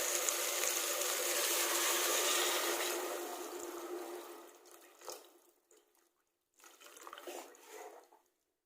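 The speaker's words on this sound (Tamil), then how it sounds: "1 டம்ளருக்கு 2 டம்ளர் தண்ணின்னு சொல்லிட்டு ஊற்றுறேன்" Water pours steadily into a pressure cooker pot of rice, then tapers off into a few trickles and splashes before stopping.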